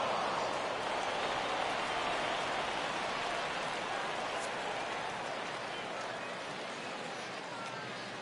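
Steady rain hisses across a baseball video game, a broad, even wash of noise with faint crowd murmur beneath.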